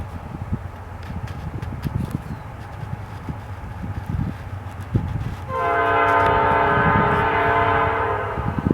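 CP grain train passing through Wauseon, Ohio, with a low rumbling approach that swells into a long, loud, sustained horn blast from about the midpoint to the end.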